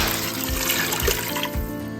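Water pours steadily into an Instant Pot over uncooked lasagna pasta and meat, a continuous close splashing and gurgling stream with no voices.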